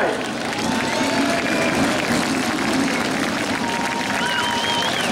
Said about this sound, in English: Ladies and gentlemen, let's give a round of applause.